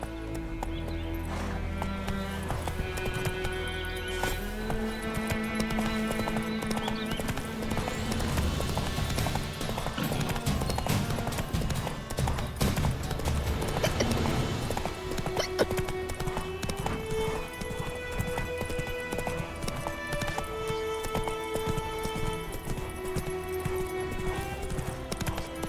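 Horse hooves clip-clopping steadily in The Witcher 3, a continuous galloping rhythm running under loud orchestral game music, with an occasional faint whinny.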